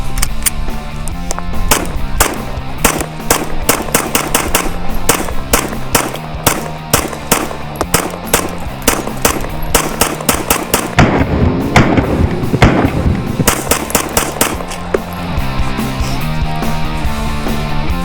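A gun fed from standard-capacity Glock magazines fires a rapid, sustained string of loud, sharp shots, close and steady, for the whole stretch with no talking.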